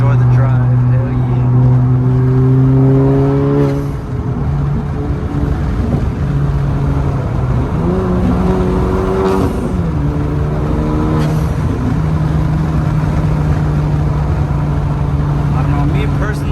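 A 10th-gen Honda Civic Si fitted with an HKS blow-off valve drives along, its engine droning loud and close with rising and falling revs and short whooshing releases between gear changes, voices mixed in.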